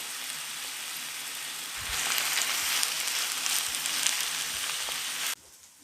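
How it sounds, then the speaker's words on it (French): Chanterelle mushrooms sauté with garlic and salt in a pan, a steady close sizzle that swells louder partway through and then cuts off abruptly near the end. "On va les faire revenir. avec donc l'ail et un peu de sel."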